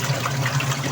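Water pours steadily into the tub of an automatic washing machine, a constant broadband rush with a low hum beneath, close and continuous with no talking.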